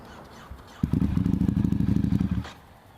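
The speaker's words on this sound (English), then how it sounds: "does this bike roar" A Ducati XDiavel S with a Termignoni exhaust riding on a fall day in Chicago, its deep pulsing exhaust note rising suddenly and loudly, throbbing for about a second and a half before dropping away.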